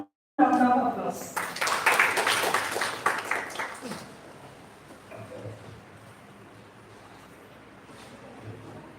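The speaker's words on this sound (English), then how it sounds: "let's welcome her with a warm round of applause" An audience at a national-level conclave on Indian Knowledge Systems breaks into applause for a speaker. The clapping is dense and fairly close, lasts about four seconds, then fades to faint room noise.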